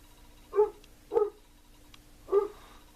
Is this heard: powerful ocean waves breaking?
no